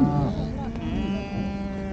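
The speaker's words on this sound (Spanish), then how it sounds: "hay también las vacas o toros de raza" Cattle lowing at a livestock fair for sheep and cattle in Taraco, Huancané, with a loud sustained moo close by over a busy, crowded background and a faint voice.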